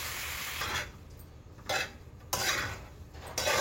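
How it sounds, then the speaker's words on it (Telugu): Spoon stirring and mixing food in a cooking pot: scraping, rubbing strokes against the metal, with a few louder bursts of clatter amid steady low background noise. "బాగా కలపాలి. కలిపాక ఇప్పుడు 2-3 టైమ్స్ కలపాలి."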